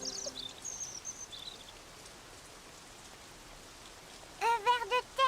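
Steady, soft rain falls on a sandbox outdoors, a fine even patter throughout, with a few faint bird calls near the start and a clearer chirping bird near the end.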